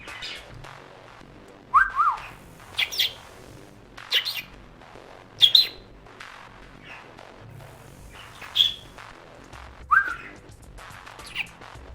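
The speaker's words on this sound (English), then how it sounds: "My bird." A pet bird in a quiet room chirps and whistles in short, bright bursts every second or so. The calls are close and clear, with no talk over them.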